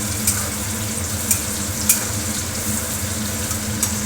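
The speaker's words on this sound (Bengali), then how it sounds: "বেগুনটাও ভেজে নিলাম" Eggplant frying in oil in a pan, a constant close hiss of sizzling with occasional faint clicks of a utensil against the pan, no voices.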